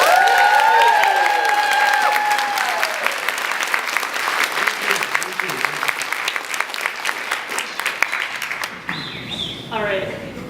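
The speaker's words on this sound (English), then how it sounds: "I promised there would be cheering." An audience at a conference breaks into sustained applause, dense steady clapping from a large crowd that fades and stops near the end, followed by a brief voice.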